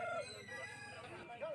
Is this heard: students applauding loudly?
no